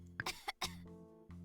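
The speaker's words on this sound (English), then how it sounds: "Why are you coughing?" A few short, close coughs with a throat-clearing rasp, bunched into rapid bursts over about a second, each ending in a brief voiced tail.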